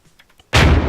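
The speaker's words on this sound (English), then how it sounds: "Fire another round, and you'll see the second line start to draw." Artillery gun firing a round in the video game Arma 3: a single sudden, loud boom that hits after quiet faint clicks and rumbles on heavily to the end.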